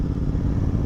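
Close up, a GT650 motorcycle with a Moto Torque exhaust gives a brief, continuous deep engine rumble, even in loudness, with some mechanical clatter.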